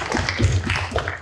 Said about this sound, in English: let's acknowledge our parents and clap for them